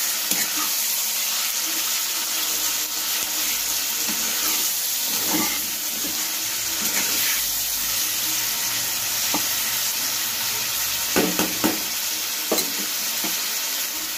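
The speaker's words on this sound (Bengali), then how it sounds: "ম্যারিনেটেড চিকেনটা দিয়ে আমি খুব ভালোভাবে কিন্তু কষাতে থাকবো।" Marinated chicken stir-fries with onion and garlic in hot oil, a constant loud sizzle and hiss with occasional scraping stirs and clinks close by.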